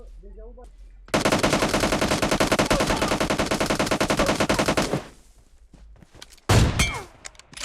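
Video game gunfire: a sustained automatic burst of rapid, evenly spaced shots lasting about four seconds, loud and close, followed by a quieter stretch and one more sharp, heavy blast near the end.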